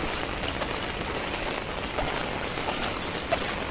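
Rain falls steadily outdoors in a dense, even hiss, with no pauses and a few faint splashes on the surface.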